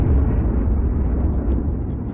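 A huge explosion depicting the birth of the sun rumbles as a dense, sustained low roar that stays loud and heavy for a couple of seconds without easing off.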